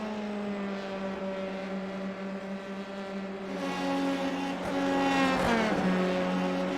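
Race cars howl along a circuit in the Indian Racing League with Volkswagen Motorsport India, several engines layered with steady droning harmonics that swell louder as more cars close in and pass near the end.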